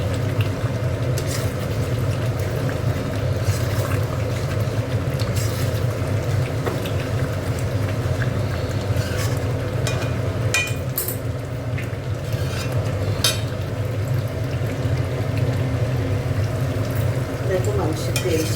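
Chicken pieces being sautéed for a chicken curry in a pan, a steady low sizzle with occasional stirring scrapes and utensil clinks running continuously throughout, fairly close, with no talk.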